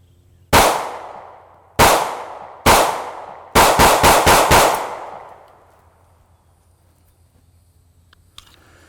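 A Ruger pistol fires Hornady ammunition outdoors: three spaced loud shots, then a quick string of five, each with a ringing echo tail, followed by quiet.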